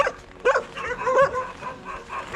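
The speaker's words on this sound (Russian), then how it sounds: "Ну что вы гавкаете, а? Что вы гавкаете?" Several small dogs yip and bark at an animal shelter in Udachny, Yakutia, in scattered high-pitched bursts at close range with some kennel background noise.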